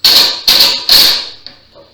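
Three sharp, ringing hammer blows strike a loose joint on a small wooden bench, evenly spaced and loud up close, each decaying quickly, followed by a faint tap and a soft knock.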